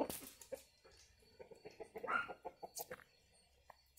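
Chickens, a rooster and ducks settling down to sleep in a farmyard give a run of short, close clucks and soft calls, irregular and fairly quiet, with no one talking.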